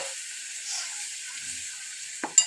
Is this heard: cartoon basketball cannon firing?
no